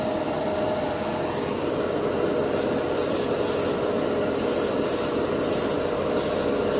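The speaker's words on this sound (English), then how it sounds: "it usually doesn't run because it actually is gripping to something when you're spraying it over paint" Tamiya clear color spray paint hisses from an aerosol can in loud, steady bursts, with short pauses between passes and a close, continuous airy roar.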